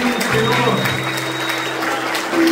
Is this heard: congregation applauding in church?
yes